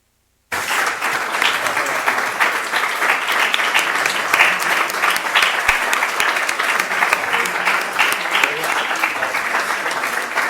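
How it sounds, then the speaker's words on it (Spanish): Loud, sustained applause from an audience at a round-table academic session, dense clapping starting abruptly and continuing evenly for about ten seconds. "por supuesto los aplausos"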